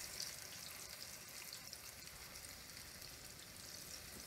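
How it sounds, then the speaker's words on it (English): Chicken frying in hot canola or vegetable oil, a faint, steady sizzle and crackle that continues evenly throughout. "you just place your chicken in there. You'll see it start frying up."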